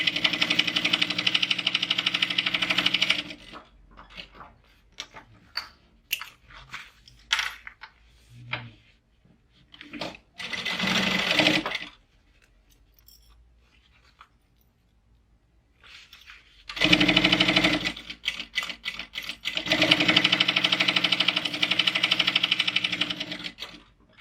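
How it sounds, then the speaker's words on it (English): A sewing machine stitches a bag pouch lining in several close bursts of rapid whirring, with quiet gaps holding light clicks and handling noises between runs. "And then I'm just going to sew a couple of inches on either side."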